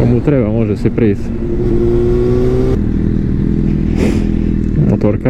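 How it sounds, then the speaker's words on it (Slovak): A motorcycle engine runs loud and close, revving up and down with a rough mid-pitched drone as it rides by, with people talking over it. "Motorkár ide tak dopredu,"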